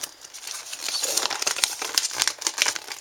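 Large fold-out Victorinox user's guide paper being opened and unfolded, a continuous close crinkling and rustling with sharper crackles throughout, no voices.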